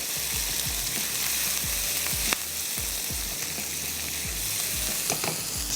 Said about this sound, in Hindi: इसको भी हम थोड़ा सा सौते करते हैं, सुर्ख नहीं करना लहसुन अदरक को